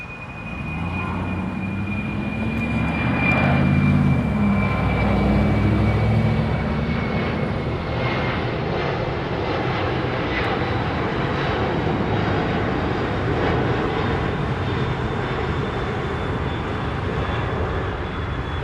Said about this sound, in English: Such rarity to see FedEx take off over here.